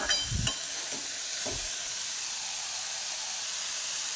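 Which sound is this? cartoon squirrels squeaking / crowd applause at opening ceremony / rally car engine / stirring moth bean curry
stirring moth bean curry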